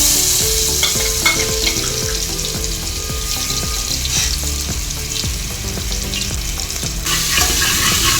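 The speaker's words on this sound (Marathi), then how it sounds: "कोथिंबीर आलं आणि लसणाची पेस्ट चांगली जरा तेलामध्ये परतून काढली" Coriander, garlic and ginger paste frying in hot oil, a bright steady sizzle with repeated spatula scrapes against the pan, close up and with no speech.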